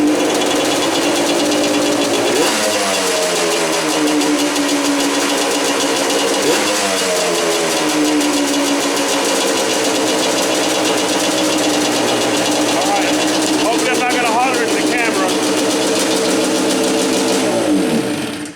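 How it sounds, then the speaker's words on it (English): A Yamaha Banshee ATV engine runs loudly and steadily, rising in a couple of revs that sag slowly back instead of dropping straight to idle, with a brief voice near the end. "when you rev it, the idle hangs"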